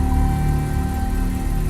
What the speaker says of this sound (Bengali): ইঞ্জিনটাও তো চালু রয়েছে